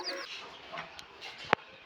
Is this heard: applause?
no